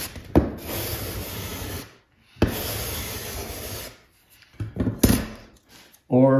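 A metal plate rubs and smooths powder on an N-scale model road surface in long abrasive strokes, two sustained passes broken by short pauses and then a brief scrape, loud and close with no talking.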